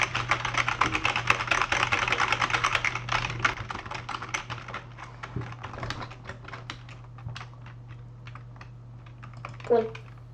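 Rapid computer keyboard typing clatters during a Blade Ball game session, dense and loud at first, then thinning into sparser clicks, with a voice briefly heard near the end.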